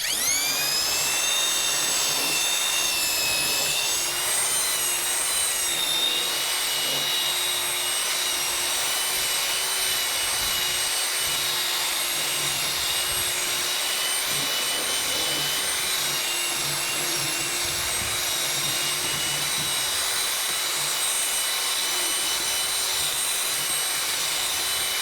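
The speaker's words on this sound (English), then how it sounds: "I've been mixing 3 minutes with the machine" A power mixer churns shower grout in a bucket, a steady high-pitched motor whine with rough grinding texture that runs continuously and loudly throughout, with no talking.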